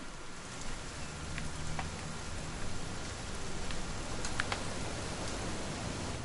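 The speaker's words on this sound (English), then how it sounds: "It's gonna rain the whole weekend, isn't it?" Steady rain falls in the video game What Remains of Edith Finch, a soft continuous hiss with faint scattered drops, alone and moderately quiet throughout.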